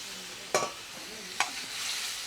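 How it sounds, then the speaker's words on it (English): Masala sauce and base gravy for chicken tikka masala stirred in a pan, with a soft sizzle underneath and two distinct scraping clinks of the utensil against the pan, no talking. "Give that a good mix, and then goes in the base gravy"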